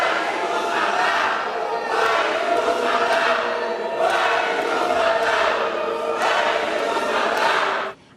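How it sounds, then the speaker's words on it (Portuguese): Protesters, including Black movement activists, boo and shout from the floor of a legislative chamber during a deputy's speech, a dense sustained crowd roar with rising surges that cuts off abruptly at the end. "O deputado foi vaiado por manifestantes e o discurso foi interrompido por gritos de ativistas do movimento negro presentes no plenário."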